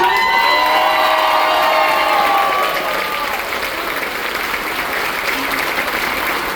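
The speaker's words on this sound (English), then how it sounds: "Come on, man, put your hands together." A cruise ship audience at a patriotic veterans ceremony bursts into loud applause and cheering, with whoops over steady clapping that fades slightly after a few seconds but keeps going throughout.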